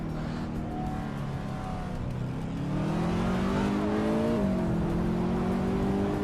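Several engines rev and rise together in a 2014 Maserati Gran Turismo race start on the Chicago street circuit, layered tonal whine climbing in pitch, loud and continuous, one engine swelling and dropping near the end.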